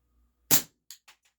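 A WE Tech Bulldog airsoft gas blowback pistol fires 0.30 g BBs: one sharp, close crack followed by three fainter, rapidly decaying clicks, with no voices.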